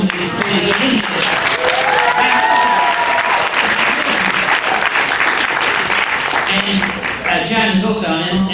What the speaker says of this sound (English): she gets a great round of applause